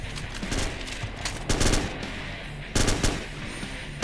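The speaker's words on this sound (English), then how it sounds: "Under fire. Shots fired." Gunfire in a tactical game, with dense rapid bursts of shots and heavier volleys rolling over a constant loud background of firing, several sharp clusters standing out.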